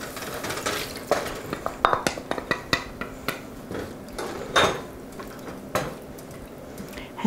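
Wine and cornstarch mixture poured into a sauté pan of softened vegetables for a snapper sauce, with a run of sharp utensil clinks and scrapes against the pan over a faint background sizzle.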